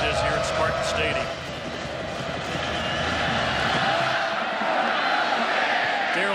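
A large stadium crowd roars at a Michigan State versus Western Michigan college football game at Spartan Stadium, a broad continuous wash of cheering that stays loud throughout, with a commentator talking over it.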